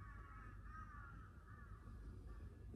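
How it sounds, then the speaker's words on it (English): Crows caw repeatedly in a series of harsh, ragged calls at moderate distance over a low, steady outdoor rumble, with no voices. "The crows are talking."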